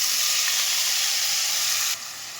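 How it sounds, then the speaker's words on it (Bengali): Chopped potatoes hit a hot pan and sizzle with a loud, steady frying hiss that drops off abruptly near the end, and nobody speaks. "এর সঙ্গে অ্যাড করব আলু, কুচি করে রাখা আলু।"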